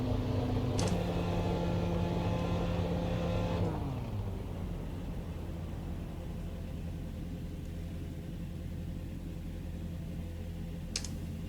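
Formula Renault 3.5 Dallara T12 race car engine in iRacing, a loud steady whine that drops in pitch and fades into a low idle rumble.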